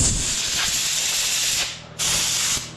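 Compressed air blasts loose crud out of a rear shock absorber from a 2013-2015 Chevy Malibu, two sharp hissing bursts close by, with a brief pause between them.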